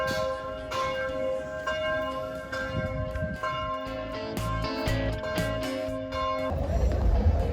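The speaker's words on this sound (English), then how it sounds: "Noon bells ringing." Church bells ring out at noon, repeating in a rich, overlapping peal, steady and fairly loud, with faint background voices and bustle.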